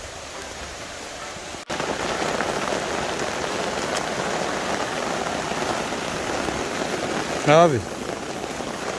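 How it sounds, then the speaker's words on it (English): Steady rain falls on a farm in Samoa, a dense, even hiss of drops on the ground and surfaces that continues throughout, with a brief voice speaking near the end. "Sorry guys, I might have to put my phone away because it's raining."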